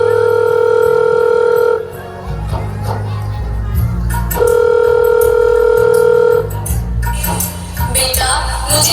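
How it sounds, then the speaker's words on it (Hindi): A telephone call is being dialed, with two long steady electronic tones separated by a short gap, heard amid background voices and room noise. "अभी फोन करती हूँ बेटे को कि इसी वक्त मुझे यहाँ से घर ले जा।"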